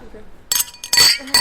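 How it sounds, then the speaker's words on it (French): Glasses clink together in a toast among a group of women at a hackathon gathering in Matera, Italy, several bright chimes in quick succession over lively voices. "Allez, les filles, on trinque."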